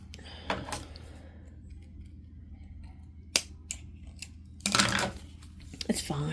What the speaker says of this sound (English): Oh look, I get to cut the zipper again.